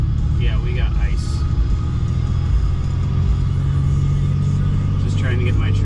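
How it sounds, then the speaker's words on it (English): A pickup truck's engine rumbles and revs steadily as its rear wheels slip on an icy track while pulling a trailer, a loud, continuous drone close by with faint voices. "My truck was slipping in the rear there."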